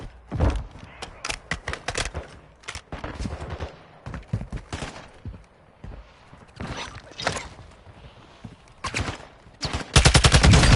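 Automatic gunfire rattles in Call of Duty DMZ, with bursts of rapid shots and single cracks scattered across the stretch, some close and sharp, others duller, ending in a loud fast burst.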